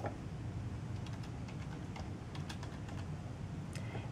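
A password is typed on a computer keyboard as a run of light, quick key clicks over a constant background hiss, faint and fairly close.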